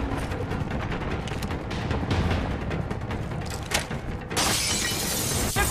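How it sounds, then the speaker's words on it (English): Heavy gunfire in the shooter game Homefront: a dense, continuous roar of shots and shattering impacts, with a sharp louder surge of fire partway through and no talk over it. "Under heavy fire!"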